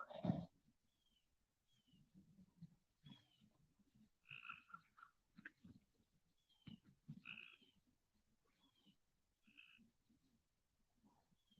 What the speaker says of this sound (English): Got little tree frogs.